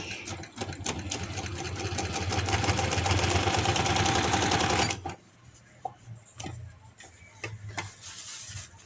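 A sewing machine stitches a seam on an umbrella-style palazzo, whirring loudly and continuously for about five seconds before stopping, followed by quieter handling sounds and faint clicks.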